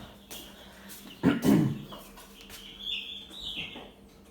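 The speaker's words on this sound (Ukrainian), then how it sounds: "Так, а ще в нас тут є маленькі курчатка." Small chicks less than a week old, kept indoors in a ninth-floor flat, give faint high chirps. A louder burst of clucking or scuffling cuts in briefly near the middle.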